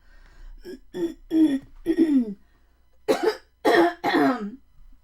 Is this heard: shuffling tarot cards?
no